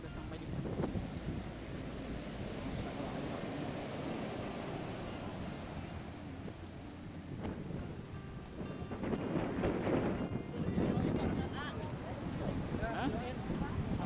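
Surf rolls in steadily at Pantai Depok beach, a broad continuous wash of breaking waves with heavy wind buffeting the microphone, swelling louder midway through.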